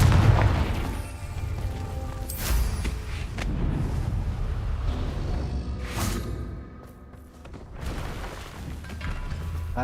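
Confringo blasting curse explosions in Hogwarts Legacy, heavy booming blasts with whooshing bursts layered over a dense, continuous game soundscape, loud and close with no talking.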